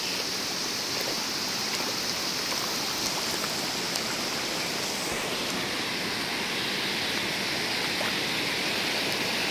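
Strong, rain-swollen stream rushing near a waterfall, a continuous loud broadband roar of flowing water that stays steady throughout, with no voices.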